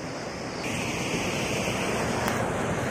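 A small mountain stream, a gadhera, flows through bushy hillside country in Uttarakhand, giving a steady broadband rush of water that stays even and close for the whole stretch with no voices.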